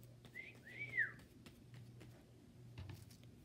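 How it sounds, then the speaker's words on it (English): Pet bird indoors giving a few short rising whistles early on, then soft clicks and small noises, faint in a quiet room under a low background hum. "You can hear my bird, I'm sorry."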